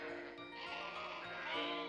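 A sheep on a farm gives a long, wavering bleat lasting about two seconds, moderately close and alone without speech.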